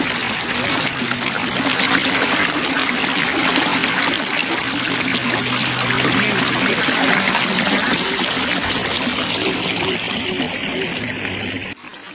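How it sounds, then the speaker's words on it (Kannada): A small natural seasonal stream tumbles over rocks on a weekend outing near Bangalore, a loud, close, continuous rush and splash of water that drops away abruptly at the very end. "ಇದು ಯಾವುದು ಅಂದ್ರೆ ಪ್ರಕೃತಿ ಸಹಜವಾಗಿ ಹರಿತಾ ಇರುವ ನೀರು"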